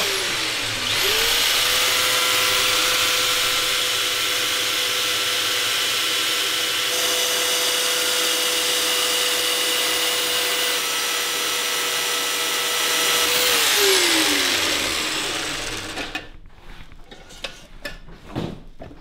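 A power tool whines at a high, steady pitch for about fifteen seconds while cutting 2 mm stainless steel, then spins down, followed by sparse clattering knocks.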